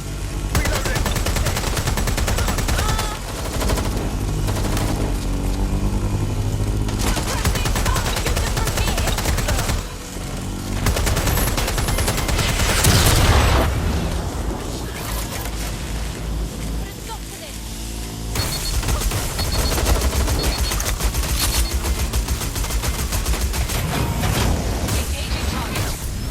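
Rapid, dense bursts of gunfire from Watch Dogs: Legion, with machine-gun rattles and layered shots fill most of the stretch, punctuated by brief pauses while in-game voices shout over the shooting.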